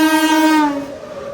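Kazipet–Secunderabad MEMU train sounding a brief tonal horn blast that slides slightly downward and fades, with a low running rumble underneath.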